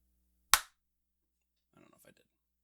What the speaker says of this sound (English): I have now clapped twice.